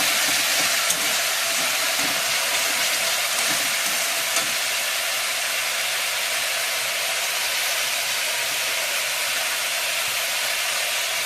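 Spice paste sizzles and crackles steadily in a hot pan, a dense broadband frying hiss that holds even throughout with occasional soft scraping stirs, close and fairly loud with no voices.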